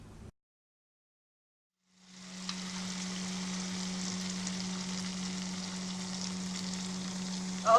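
Ghevar batter sizzles as it fries in hot oil, a steady crackling hiss that starts after a brief silence and continues evenly, close and fairly loud, with a faint clink at the end.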